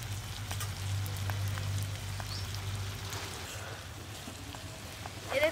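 Vegetables frying in oil in a pan, village-style cooking, release water and give a soft, steady crackling sizzle with a low background hum, fairly faint and continuous throughout.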